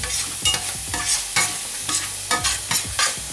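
Spiced lamb curry with cumin, coriander, garam masala and mint powder stirred in a pan, giving a run of rhythmic scraping strokes over a steady frying sizzle, close and moderately loud with no voices.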